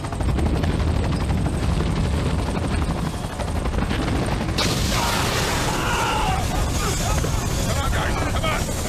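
A helicopter in a science fiction action scene churns loudly and steadily throughout, its rotor thump dense and close, while shouting voices and crashing effects surge over it in the second half.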